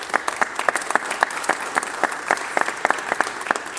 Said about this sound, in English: a big round of applause as well